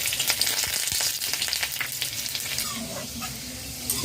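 Chopped garlic frying on a low flame, a dense continuous sizzle with some light stirring scrapes early on, close by and steady throughout, no voices.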